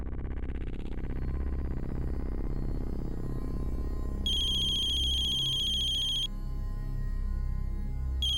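A telephone ringtone plays loudly and continuously, its tone shifting partway through into a bright, steady ringing melody that carries on to the end over a low background hum.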